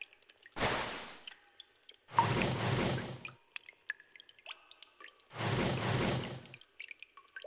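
Water dripping and splashing in the video game Lonesome Spirit: three separate splashy bursts, each about a second long, with quiet gaps and faint ambient tones between them.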